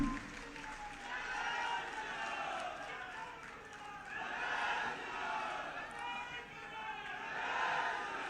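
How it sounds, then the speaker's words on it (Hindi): Faint, distant applause from an audience at an event for the Uttar Pradesh chief minister, rising and falling in several swells of clapping and crowd noise. "आपसे कहूंगा तालियां बजाकर कीजिए"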